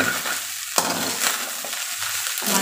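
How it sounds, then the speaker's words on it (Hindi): Chicken fried rice made from leftover rice being stirred in a hot pan, with steady sizzling frying and scraping spatula strokes, close and continuous with no talk. "इसे भी अच्छे से चला लेंगे हम।"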